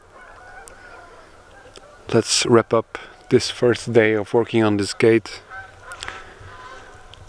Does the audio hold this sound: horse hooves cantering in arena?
no